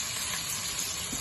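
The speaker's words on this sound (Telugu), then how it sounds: "అందులో కొద్దిగా కరివేపాకు వేద్దాం." Curry leaves hiss and sizzle steadily in hot oil for a Munnakaya tomato fry, a faint, even frying crackle with no voices.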